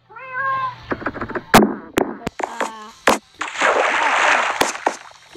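Minecraft cat meows a few times at the start, close and clear, followed by sharp game clicks and thuds and a stretch of dense, noisy rustling.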